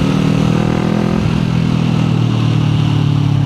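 A Kawasaki Z400 motorcycle idles and revs on a quiet stock-style exhaust fitted with an R77 Shimura silencer, a loud, close, steady engine rumble with a slight rise in pitch partway through.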